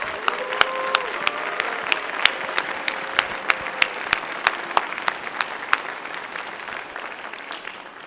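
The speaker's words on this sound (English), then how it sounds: "So give yourselves another round of applause because you deserve it." Audience applause at the FWA 2025 closing ceremony, a steady wash of many hands with sharp individual claps standing out, gradually thinning toward the end; a faint voice-like tone drifts underneath early on.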